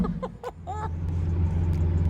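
Lamborghini Aventador S engine starting and settling into a loud, deep, steady idle rumble heard up close through an open window, with a voice briefly at the start.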